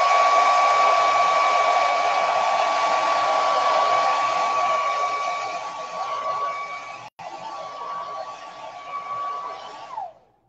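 A hair dryer blows steadily on wet green paint, loud and close, with a constant whine and airy roar. It briefly cuts out once, then keeps running before switching off at the end.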